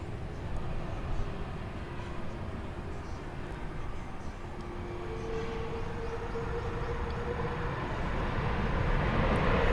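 A China Eastern airliner in special livery at Incheon Airport, its steady engine roar holding loud and continuous throughout and swelling slightly near the end, with a tonal whine in the middle.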